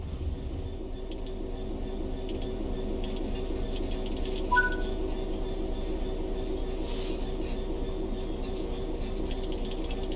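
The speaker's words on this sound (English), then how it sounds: "Bring this train to a complete stop by holding the brake control in the apply state" Train Sim World 3 train braking to a stop, a steady rolling rumble of wheels on rail with a brief metallic squeal partway through, continuous and fairly close with no talking.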